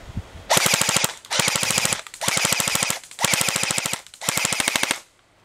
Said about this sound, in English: And we're going to do a full auto.